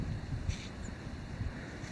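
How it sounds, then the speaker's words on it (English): Steady outdoor wind buffeting, a low rumbling roar with brief gusty thumps against the microphone, continuous throughout with no talking. "It's pretty windy out here."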